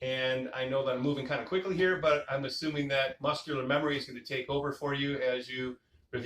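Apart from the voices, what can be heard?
No everyday noises stand out.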